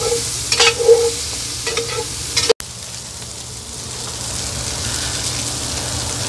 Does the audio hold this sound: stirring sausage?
yes